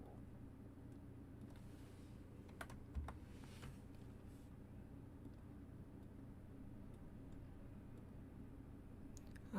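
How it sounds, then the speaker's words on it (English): Fingers tap a computer keyboard in a short, quiet burst of clicks around the middle, over a steady low background hum with no talking. "Sorry, I was typing the number again."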